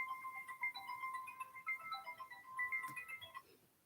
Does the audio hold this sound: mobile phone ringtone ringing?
yes